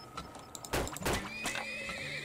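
Horse neighing in the video game Turmoil, a sharp whinny with a shaky falling pitch over light hoof clopping, fairly soft and close.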